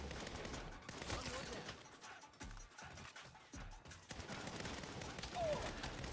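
Bursts of gunfire in Saints Row, scattered shots and rattling volleys of varying loudness, some near and some farther off, with brief gaps between them.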